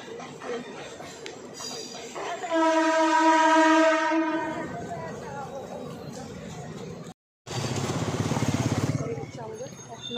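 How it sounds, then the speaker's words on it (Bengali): A train passes a rail gate near a metro road in Lalpur. It gives a loud, sustained horn blast, then a rolling rumble fades, and after a brief gap a second burst of clattering wheel noise follows. "ট্রেন যাচ্ছে।"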